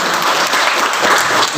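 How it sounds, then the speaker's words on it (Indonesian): Pupils in a school classroom clap together for a classmate, producing a brief, dense burst of applause that stays loud and even from start to finish. "Tepuk tangan untuk temanmu."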